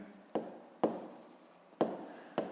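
Pen writing on paper during a sixth-grade maths exercise, four short scratchy strokes, each with a sharp start that trails off, close and quiet.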